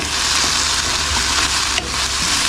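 Eggs fry and are stirred in a pan to scramble, giving a steady loud sizzle with scraping stir strokes throughout, cooked outdoors on a caravan camping trip.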